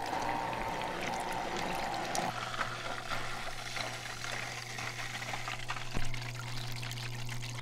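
Water pours and trickles steadily into a turtle tank during a water change, a close continuous splashing stream over a low mechanical hum.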